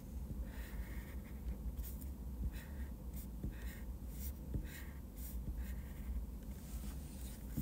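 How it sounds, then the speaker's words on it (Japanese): A highlighter pen is being drawn across paper in close, quiet strokes, each a soft scratchy swipe repeated at an uneven pace over a steady low hiss. "蛍光ペン引き終わったら配信終わります"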